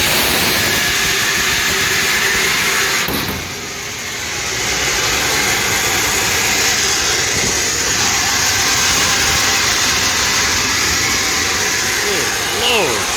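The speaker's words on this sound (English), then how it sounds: "the blower's gonna kick in" Trane Voyager rooftop HVAC unit with its blower running: a loud, steady broadband rush of air and motor hum that holds nearly unchanged for the whole span, dipping briefly early on.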